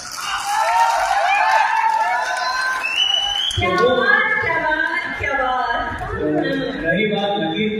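A packed cinema audience claps and cheers in a lively burst of applause and crowd noise, with a voice speaking loudly over it.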